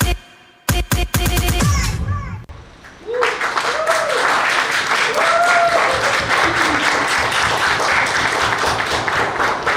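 Audience at a Gujarati stage show bursts into sustained applause after a performance, dense clapping swelling from about three seconds on after a brief burst of loud music hits and a lull, with faint cheers and whoops mixed in.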